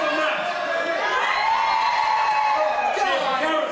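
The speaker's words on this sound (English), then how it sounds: "Cheer for Matt." A Doctor Who convention crowd cheers and whoops for Matt in a continuous, loud wash of voices that holds steady the whole time.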